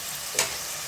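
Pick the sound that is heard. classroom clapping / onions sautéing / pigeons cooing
onions sautéing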